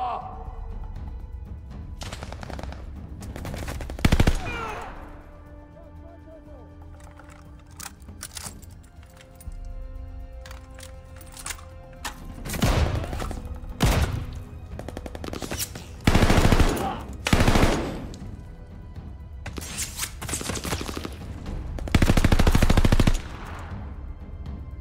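Call of Duty: Vanguard gunfire rattles out in repeated automatic bursts, loud and sharp, separated by quieter stretches of game ambience, with someone talking at times.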